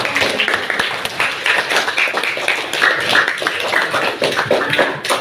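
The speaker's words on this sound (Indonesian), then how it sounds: "Ini kita beri tepuk tangan buat teman-teman" Classmates in a school classroom clapping together in a short burst, scattered hand claps close by with a few voices mixed in.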